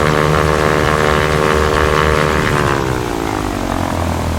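A propeller aircraft engine hums steadily at idle power, a loud continuous drone with a tonal buzz that slowly drops in pitch partway through.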